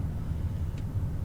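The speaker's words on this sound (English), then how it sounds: "that's the noise of the road as I am traveling with you on a road trip" Low, steady road rumble inside a moving car on a road trip, a continuous muffled roar with no voices.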